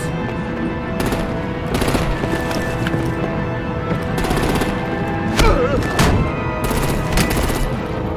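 Rapid bursts of gunfire crackle in a Batman: The Enemy Within game battle scene, coming in several volleys over a busy mechanical background with scattered impacts.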